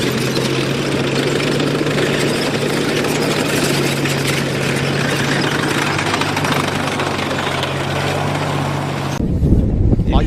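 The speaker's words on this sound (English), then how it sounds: "we're watching the T-34-85 just roll past us now" A Soviet T-34-85 tank rolls past outdoors, its engine a loud, constant rumble with a steady low drone and wind buffeting the microphone, cutting off abruptly near the end.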